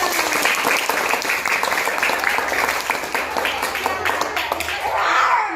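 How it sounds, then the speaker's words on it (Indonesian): Group applause from children at an evening gathering, a brisk dense clatter of many small hands clapping at full volume for several seconds before thinning slightly near the end, with faint voices mixed in. "Tepuk tangan untuk kita semua."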